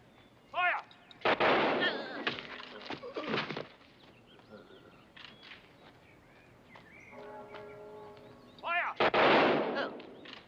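A funeral salute rifle volley, with several sharp loud shots in bursts near the start and again near the end, a shouted command between them and birds faintly heard.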